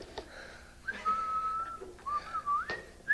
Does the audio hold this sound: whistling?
yes